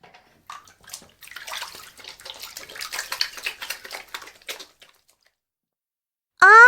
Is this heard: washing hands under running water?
yes